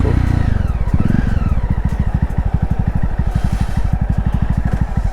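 Motorcycle engine labouring on a rough mountain road between Kausani and Munsiyari, a loud, close, rapid chugging pulse that holds steady throughout with clattering over it and no talk.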